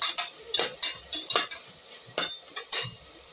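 A spoon stirs a spice mixture with a little turmeric, producing a series of sharp, close scraping and clinking strokes against the bowl in an uneven rhythm.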